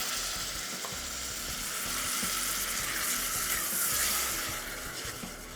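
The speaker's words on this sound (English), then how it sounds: "And I'll add a little bit of cooking liquid, which I had preserved" Beetroot blanching liquid hits a hot pan and sizzles steadily and loudly for several seconds, a dense hiss that swells slightly midway and stays close, with no talking.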